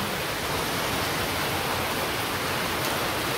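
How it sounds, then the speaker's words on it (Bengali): Rain falling steadily in a rural village with rice fields, a dense, even wash of noise filling the whole stretch with no other distinct sounds. "বৃষ্টি এরকম পড়ে, একটু কমে আবার যদি নামে।"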